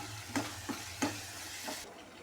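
Paneer bhurji with pav bhaji masala, turmeric, salt and chili powder is stirred in a pan: four distinct spatula scrapes over a low, quiet sizzle, spaced roughly evenly, with nothing spoken.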